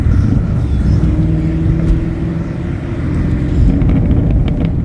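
A 2019 Chevrolet Camaro 1LE sports car downshifts with rev matching off, its engine a loud, close, continuous rumble whose low drone shifts pitch partway through as the gear changes, with no talking.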